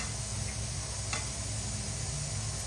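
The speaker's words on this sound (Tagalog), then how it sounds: "Kaya ko piniprito muna para para hindi siya madurog." Chicken pieces fry in a pan for creamy chicken curry, giving off a steady, dense sizzle with a close crackling hiss and no talking.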